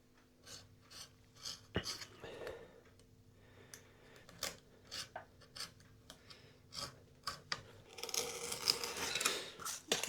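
A Flying V guitar neck is rough cut with a quick series of rasping, scissor-like cutting strokes, faint and close, running irregularly and growing denser and louder toward the end.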